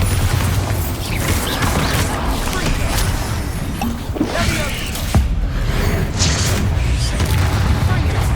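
Bombarda blasting spell explosions in Hogwarts Legacy: heavy booming impacts and crashing debris over a dense, continuous rumble of game noise, one sharp burst standing out near the middle.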